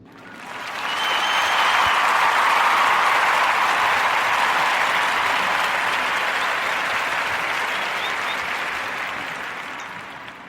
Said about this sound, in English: So one round of applause for all the recent graduates that I just named.